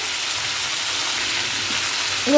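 Vegetables fry lightly in a pan for a spinach ghonto, giving a short, even, moderate sizzle with no voices.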